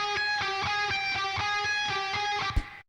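A guitar riff plays on a backup guitar layer beneath a synth lead, a quick rhythmic chopped pattern with steady repeated strums over about two and a half seconds before stopping abruptly.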